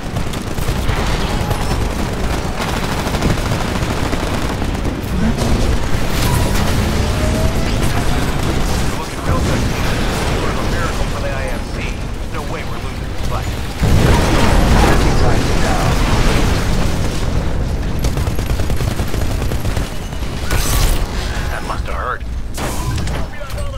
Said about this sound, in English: One more shot to kill the Sentinel.